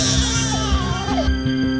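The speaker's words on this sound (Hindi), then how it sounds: "कोई बच्चा रो रहा है।" An infant cries in wailing bursts against a loud, busy background of tonal hum and music-like layers, fairly prominent throughout.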